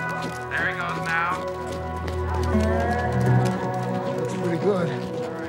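Racehorse number 8, Tom Thumb, moves into the starting gate on a sloppy track, with hoof clops and short whinnies mixed under music while someone talks over it.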